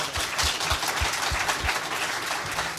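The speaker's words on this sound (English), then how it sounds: "let's give the panelists another round of applause" Audience applause for the panelists at a social media and democracy event, a steady dense wash of clapping holding at even loudness throughout, with no talk.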